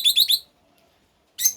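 An adult female lovebird gives three quick, bright chirps in a row, a pause, then one more sharp chirp, close and clear against a quiet room.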